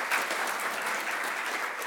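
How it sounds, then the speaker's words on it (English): Warm applause from an audience welcoming a guest speaker, brief and steady continuous clapping from a crowd. "give a very warm welcome and an applause for Patrick being here"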